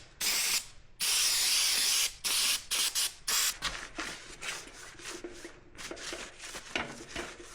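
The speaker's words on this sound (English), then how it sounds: "And I just use a little bit of cleaner." Cleaner is sprayed onto a wheel hub in several close, loud hissing bursts, two long and then a quick run of shorter ones, followed by quieter rubbing and handling noises.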